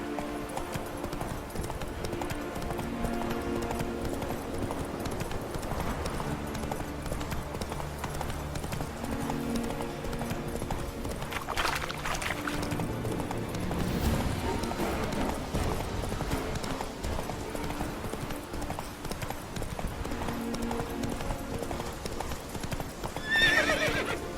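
Roach the horse gallops in The Witcher 3 with steady rapid clip-clop hoofbeats and loud neighs and whinnies over a running game soundtrack.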